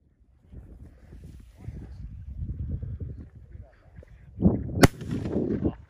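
A single sharp shotgun shot fired at partridge on a field game shoot, loud and close, heard amid outdoor rustling with people talking around it.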